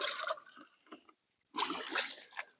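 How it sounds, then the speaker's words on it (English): Pond water poured onto potted plants outdoors in a food forest garden, giving quiet splashing and trickling in two bursts separated by a short pause. "those potted plants definitely need water. And when I do water plants,"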